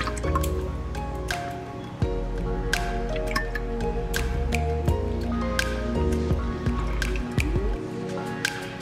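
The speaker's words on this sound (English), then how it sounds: "you're gonna add in about 4 tablespoons of light soy sauce" Light soy sauce is poured into a sauce mixture of brown sugar for orange chicken, with close, wet dripping and splashing sounds and small squishy liquid plops scattered irregularly throughout.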